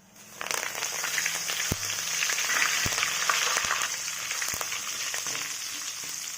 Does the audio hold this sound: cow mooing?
no